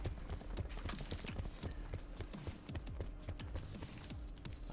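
Dense run of footsteps in a first-person shooter game, quick irregular thumps and clops layered under continuous game noise and music, steady and fairly loud without any talk.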